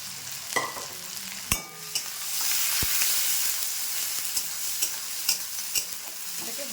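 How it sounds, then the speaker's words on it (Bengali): Chopped onion, dried red chilli and garlic sizzle in hot oil in a pan, a steady bright frying hiss with sharp clicks and taps of a utensil stirring through it, close and fairly loud. "এখানে পেঁয়াজটা দিয়ে দেবো, শুকনো লঙ্কা কুচিটাও দিয়ে দিচ্ছি, রসুন কুচিটা দিয়ে দিলাম।"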